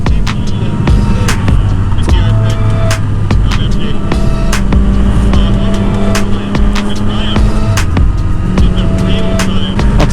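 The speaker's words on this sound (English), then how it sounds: "Lots of nice cars out." Cars and motorcycles on a open rural road, heard from a rider's motorcycle, with a loud steady engine and wind roar throughout and vehicles passing by underneath.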